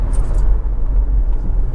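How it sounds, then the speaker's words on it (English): A 2006 Honda CR-V 2.0 i-VTEC Executive brakes firmly during a test drive, a loud, steady low road-and-cabin rumble throughout with no voices. "Going to give the brakes a bit of a shove."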